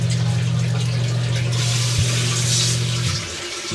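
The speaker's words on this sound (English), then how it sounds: "And so we can hear that pump running." A basement sump pump runs steadily, pushing water out with a constant low motor hum and splashing flow, then cuts off near the end.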